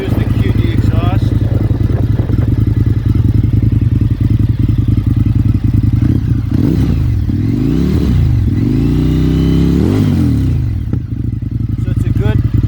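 Indian FTR1200 motorcycle with QD exhaust and baffles removed, idling loud and close with a lumpy throb, then blipped through several sharp revs that rise and fall before settling back to idle.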